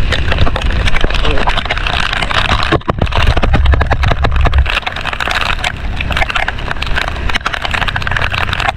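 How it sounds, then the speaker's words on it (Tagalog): Heavy typhoon rain pours down in Bicol, a dense, loud, continuous hiss and patter with rough crackling bursts and no letup. "Lakas ng ulan, no?"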